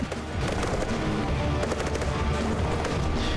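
Vehicle-mounted guns firing in a video game, rapid continuous bursts of automatic fire, loud and close, with a short lead-in before the volley.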